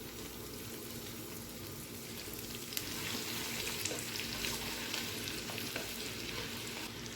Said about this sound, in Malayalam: ഇനി നമുക്ക് എണ്ണ ചൂടായി വന്നിട്ട് അതിലേക്ക് വറ്റൽമുളക് ഇട്ട് കൊടുക്കാം.